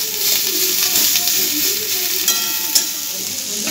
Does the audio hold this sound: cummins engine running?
no